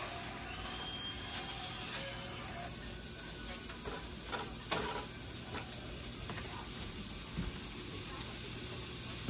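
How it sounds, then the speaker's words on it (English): Sausage meat sizzling in a pan while being broken up for a quiche, a soft continuous crackling hiss with faint clicks, quiet and steady throughout. "Our meat's starting to sizzle."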